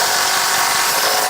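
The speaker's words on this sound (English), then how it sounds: "Ooh, another drill. Nice. I can do these electric things really good." An electric drill whines at full speed, a loud, steady high-pitched motor drone lasting about a second before tapering off.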